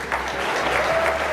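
A young audience applauds, a dense, steady patter of many hands clapping for the whole short stretch at an even loudness.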